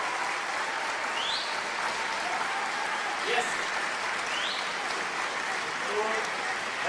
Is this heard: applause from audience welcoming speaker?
yes